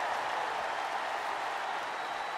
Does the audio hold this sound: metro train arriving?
no